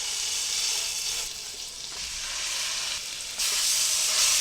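Chuck roast pieces sear in hot butter in a pan, giving a loud, steady sizzle and hiss that jumps louder near the end as more meat hits the pan.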